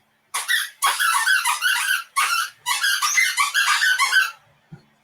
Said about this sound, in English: The sweet, soothing sounds that squeaky toy is brought to you by Bella.